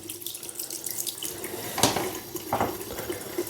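Tap water runs steadily into a sink while a man rinses his face after shaving, with splashes and bursts of water over the continuous flow, fairly close and alone.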